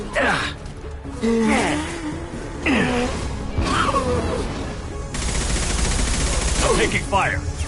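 Mass Effect 2 combat gunfire crackles in dense volleys amid booms and swooping effects, loud and close, with voices grunting and calling out between bursts.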